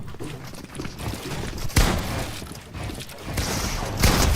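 Gunfire in the video game Fortnite: sharp shots and bursts cracking among mechanical clicks and rattles, moderately loud with faint game ambience and no clear talk.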